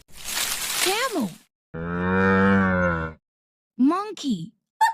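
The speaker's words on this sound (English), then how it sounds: "Camel." A camel calls in several loud, drawn-out groaning bellows: a rasping cry, a long steady buzzing moan, then shorter rising-and-falling grunts, each separated by brief silence.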